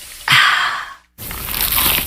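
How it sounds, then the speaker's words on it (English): A crunchy, cheesy pizza slice gets a close, loud bite: a sharp crackling crunch, a brief silent pause, then a longer stretch of crisp crunching and chewing. "Is that the sound of an ooey gooey cheesy crunchy slice of P-I-Z-Z-A?"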